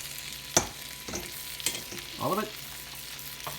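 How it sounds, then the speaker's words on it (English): Chicken fries in oil in a pan, with a soft steady sizzle broken by sharp pops and scraping stirs. A voice speaks briefly over it. "All right, we got a little sizzle there. Listen to that."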